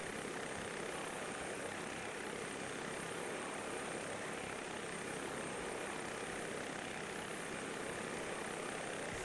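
A simulated helicopter over Catalina Island in a flight simulator gives a steady rotor and engine drone, even and constant with no speech over it.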